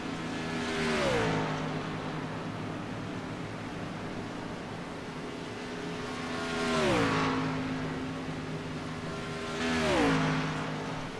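Xfinity series race cars approach pit road in three separate passes, each a loud engine roar that builds and then drops in pitch as the car goes by, with quieter gaps of distant engine noise between them.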